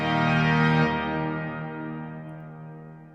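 A sustained pipe organ chord swells in a huge reverberant space, the Palace of Industry, then fades slowly as the long echo tails off, with no voices.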